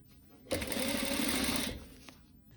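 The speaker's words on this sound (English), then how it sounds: "I've now sewn this all the way around, so it's just got this little 1 centimetre turning." A sewing machine stitches a folded one-centimetre hem on a maxi dress in a single short, steady whirring run of about a second, close and clear, then stops.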